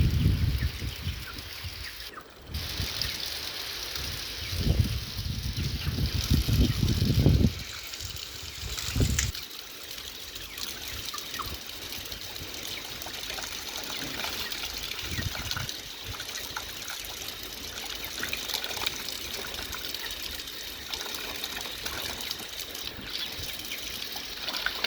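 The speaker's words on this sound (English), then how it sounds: "So right now I'm going to wash my golden apples." Golden apples being rinsed under running water outdoors, with a steady trickle and splash of water that grows louder and gushier in bursts over the first few seconds before settling into a continuous, moderate flow.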